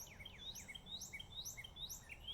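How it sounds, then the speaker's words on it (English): Small birds sing outdoors, faint and somewhat distant, with quick high chirps and trills repeating in a lively pattern over a soft low background hum. "some beautiful birds singing."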